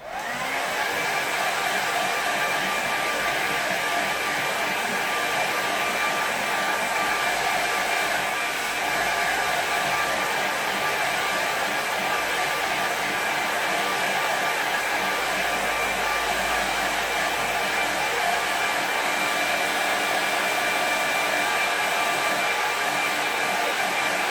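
A hair dryer blows steadily over a watercolour painting, a loud, continuous close whir with a constant high whine that runs unbroken throughout.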